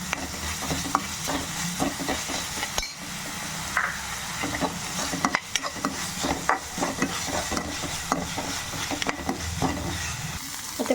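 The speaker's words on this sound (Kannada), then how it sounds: "ಇದು ಸ್ವಲ್ಪ ಹಸಿ ವಾಸನೆ ಹೋಗಬೇಕು, ಅಲ್ಲಿ ತನಕ ಫ್ರೈ ಮಾಡ್ಕೋಬೇಕು" Ginger garlic paste fries in a pan for mutton fry, a dense steady sizzle punctuated by scraping stirs of a spoon against the pan, close and loud throughout.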